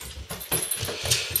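Chocolate Labrador dogs are heard close by, with soft snuffling and movement and a brief low whine, under steady room noise.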